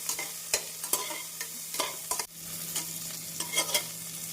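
Chopped green chilies sizzling in a pan over medium flame while a utensil stirs and scrapes in quick, uneven strokes, close and fairly loud.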